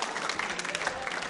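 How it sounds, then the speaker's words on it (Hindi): An audience at a school quiz show applauds a contestant, a dense, steady wash of clapping from many hands, close and continuous for a short burst. "नितिन जी के लिए तालियां जोरों से बजाइए।"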